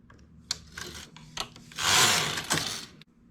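A domestic knitting machine carriage is pushed across a row at tight tension, giving close mechanical clicks and rattles followed by a longer sliding rasp of the carriage across the needle bed, with no talking.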